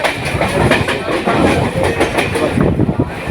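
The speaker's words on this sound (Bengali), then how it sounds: "ট্রেনটা এখন দমদমে যাচ্ছে" Heard from aboard a train heading to Dum Dum, the train rolls along steadily, its rumble and rhythmic clatter of wheels on rails filling the clip loudly and close, with no break.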